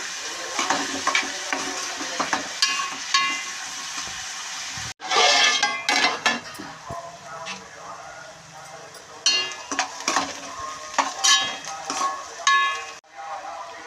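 Onions frying in a pan for a bitter gourd mutton curry, with salt added, give a steady close sizzle broken by stirring scrapes, a brief pause midway, then more sizzling and clatter.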